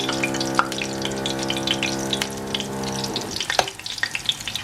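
Oil sizzles and crackles as cauliflower deep-fries, a busy bubbling hiss over a steady low mechanical hum, growing sparser toward the end.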